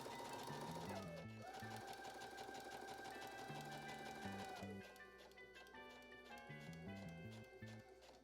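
A sewing machine stitches a 5/8 inch seam on wide leg trousers, running steadily with loud whirring and rapid mechanical chatter, easing and restarting a few times near the end.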